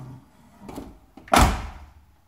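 The door of a square-body Chevrolet K5 Blazer, fitted with a freshly welded hinge pin, swings and shuts. A few soft clicks and creaks lead to one solid, close thunk with a short rattle.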